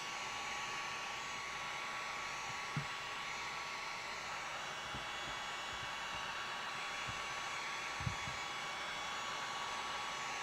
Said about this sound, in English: I don't even know if I needed this heat gun.